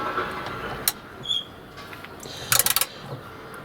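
Ratchet tightening 10mm side step bracket bolts on a Vauxhall Vivaro van, heard as a brief click near the start and a quick burst of several close, sharp ratcheting clicks later over a quiet background.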